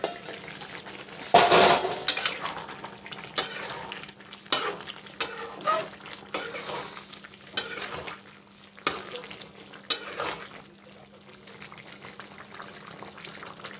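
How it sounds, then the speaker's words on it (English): Soya chunk and potato curry sizzles and bubbles in a pot, with a spoon clattering and scraping against the metal as it is stirred, close by and moderately quiet. "Cover it up and let it cook till the potatoes cook tender."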